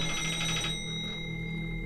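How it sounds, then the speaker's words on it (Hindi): Telephone ringing in the horror video game Danny's House, a steady electronic ring tone that keeps sounding over a constant low background hum, clear and fairly close. "अब किसका फोन आ गया भाई इतनी रात को?"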